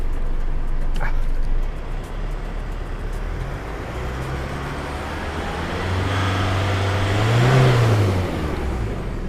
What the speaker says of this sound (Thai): จะลองกดคันเร่ง จะให้ดูควันถ้อยเสียด้านหลัง